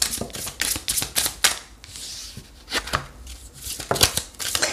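Oracle cards are shuffled by hand in rapid, crisp riffles and slaps, close and fairly loud, with brief pauses between bursts.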